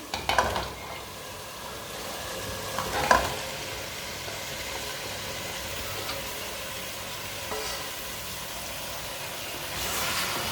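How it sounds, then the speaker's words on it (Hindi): Turnips fry with spinach in a pan, making a low continuous sizzle with a few distinct stirring scrapes and clinks near the start, around three seconds, and at the end; no voices present. "अच्छी तरह मिक्स कर लेंगे। शलजम को भी 1 मिनट तक भून लेंगे।"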